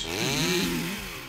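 Cartoon chainsaw revving in a brief, loud burst with a rising and falling motor whine, heard alone for about a second.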